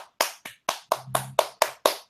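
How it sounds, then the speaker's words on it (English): Crisp, sharp applause claps ring out in a quick, even rhythm, eight or nine of them close by after a learning session, with a faint low hum underneath. "And give Zeng a round of applause again."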